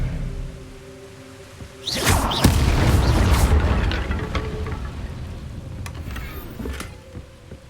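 Incendio and Expelliarmus spells fire in Hogwarts Legacy: a sudden loud whooshing blast with crashing impacts after a quieter lead-in, then a sustained rushing roar that slowly fades, ending with a couple of sharp zaps.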